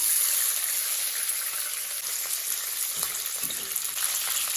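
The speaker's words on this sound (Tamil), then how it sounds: "பூண்டு வந்து நம்ம செவற அளவுக்கு வதக்கிடுவோம்" Garlic and curry leaves fry in hot oil for a tomato pickle, giving a steady bright sizzle with a few soft stirring clicks.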